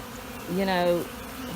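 Honeybees robbing a hive make a steady close buzz, with one bee droning louder as it passes nearby for about half a second.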